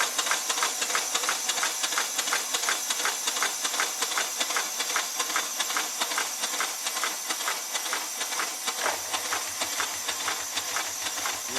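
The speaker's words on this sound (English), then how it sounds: "I'll just apply some air and you'll see the wheels start to turn round" A model steam engine running on compressed air, its wheels turning with a steady rapid chuffing hiss of evenly spaced pulses. The sound is loud and continuous, and a low hum joins in near the end.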